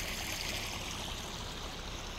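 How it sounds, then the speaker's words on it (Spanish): Water flows steadily through the Tijuana River channel at the US–Mexico border near San Diego, a constant rushing wash with no pauses. "este es el cauce del río de Tijuana, así es como entra"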